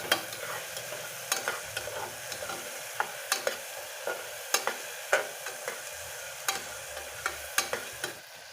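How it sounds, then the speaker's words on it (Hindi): Diced potatoes cooking in oil in a pan for aloo matar sabzi, with a steady low sizzle broken by repeated sharp scrapes and taps of a spoon stirring, close and fairly quiet. "आलू को थोड़ी देर ऐसे ही तेल में पकाएंगे।"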